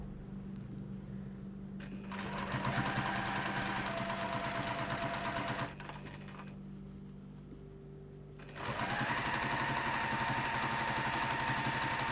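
Sewing machine stitching along a fabric seam, a fast steady mechanical whirr running in bursts with brief pauses between, close and clear, with a low motor hum underneath.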